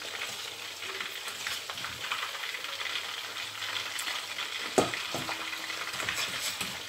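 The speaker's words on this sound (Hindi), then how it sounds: "चिकन फ्राई हो गया, अब मैं इसको निकाल कर दूसरा डालूँगी।" Chicken pieces fry steadily in a pot with oil, a dense continuous sizzle with a sharp clink or scrape near the five-second mark; no voices.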